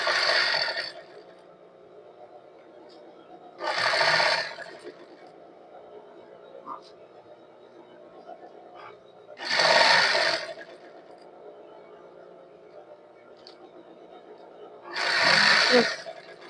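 A sewing machine stitches elastic onto a crop top in three or four short bursts of a few seconds each, separated by quieter pauses with low background hum, close and fairly loud.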